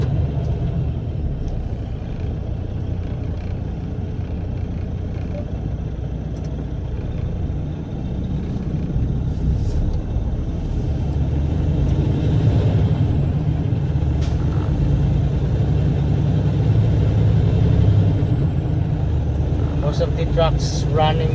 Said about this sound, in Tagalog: Grabe nating truck ngayon, day cab.